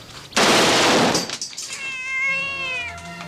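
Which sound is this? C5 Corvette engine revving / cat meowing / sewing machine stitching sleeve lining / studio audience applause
cat meowing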